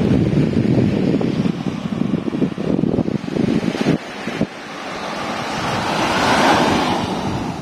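Waves wash onto Chaweng Noi beach on Koh Samui, a loud, close surge and hiss with heavy wind buffeting the microphone and a brief lull before the next wave swells in.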